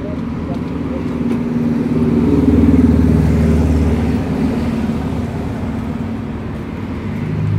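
A Honda Vario scooter engine runs noisily and steadily nearby with a low rumble during radiator service, swelling slightly midway. Someone talks over the engine.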